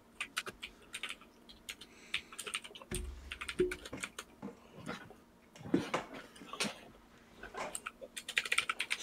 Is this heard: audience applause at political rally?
no